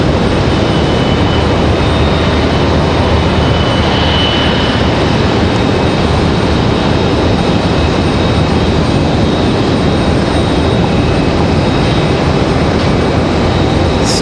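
A Boeing 777 airliner taxies at Raleigh-Durham airport, giving a loud, constant jet engine rumble and hiss with a faint high whine, unbroken throughout and free of speech.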